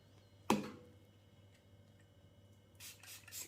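Hands rubbing together with sanitizer gel: a single sharp rustle, then quieter, brief bursts of friction near the end of a mostly quiet stretch.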